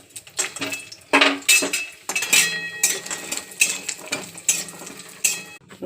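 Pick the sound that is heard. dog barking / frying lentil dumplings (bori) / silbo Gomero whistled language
frying lentil dumplings (bori)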